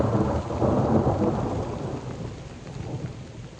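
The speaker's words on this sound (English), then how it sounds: "You see the lightning flash, and less than half a second later, you already hear the thunder." Thunder rolls through a cold, wet thunderstorm over the Algonquin woods, a heavy rumble peaking early then fading slowly, with steady rain hissing underneath.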